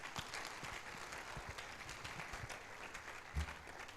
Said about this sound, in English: Give a resounding applause to Mr. Moses.